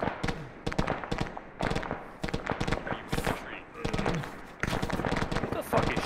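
Gunfire in the video game Arma 3: dense, continuous automatic and single shots crackle throughout with brief lulls, mixed with players talking over it.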